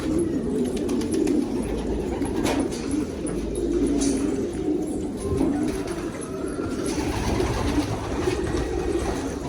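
Pigeons cooing close by, soft repeated low coos over a steady bed of ambient outdoor noise, with faint chirps and brief clicks scattered throughout.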